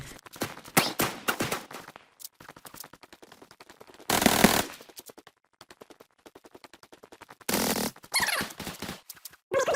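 Bursts of rapid automatic gunfire from the online shooter game Zula, with clusters of sharp shots, brief pauses and a few dense sustained volleys, loud and close throughout.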